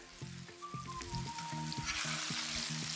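Potatoes sizzle and fry steadily in a pan made from a disc, a close, continuous crackle with faint stirring and some clinking tones underneath.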